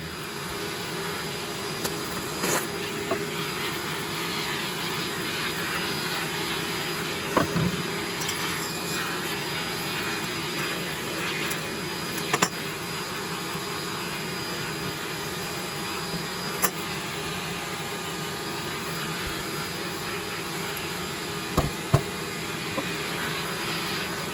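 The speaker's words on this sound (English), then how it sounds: "Let's go ahead and hit that with the vacuum." A vacuum cleaner drones steadily while sucking cobwebs and dust off the faceplate of a Casablanca Delta II ceiling fan being restored, a continuous close hum with a few brief knocks and clicks as the nozzle touches the fan.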